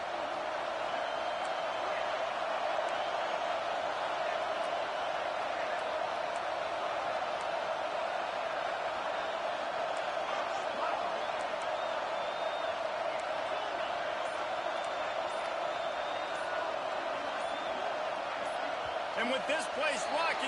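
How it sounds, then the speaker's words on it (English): A college football video game stadium crowd roars as a constant, dense wash of noise, loud and unbroken, with faint thuds and cheers inside it and speech-like murmur mixed in. "with this place rocking, the crowd forces a false start"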